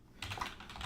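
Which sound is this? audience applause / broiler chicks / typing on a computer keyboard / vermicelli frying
typing on a computer keyboard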